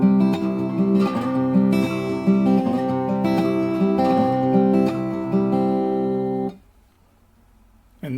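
Fingerpicked acoustic guitar playing the first four bars of the intro to a piece, a steady ringing pattern up close, stopping abruptly near the end with a short silence.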